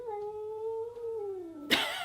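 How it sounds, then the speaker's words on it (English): Cats yowling at each other, a tomcat against a house cat: one long, wavering, high-pitched howl slowly sliding lower, then a sudden harsh, noisy hiss or spit at the end, fairly close with no talking. "We may have some more yowling."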